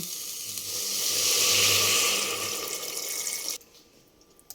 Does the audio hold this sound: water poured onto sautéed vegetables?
yes